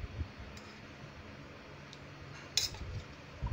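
A spoon mixes dhokla batter with refined oil and turmeric in a bowl, giving a few soft clinks and scrapes of metal against the dish, quiet and sparse with small sharp ticks.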